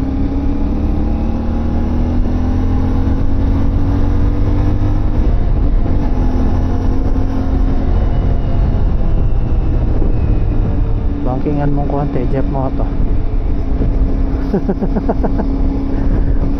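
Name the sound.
CF Moto 450MT motorcycle engine while riding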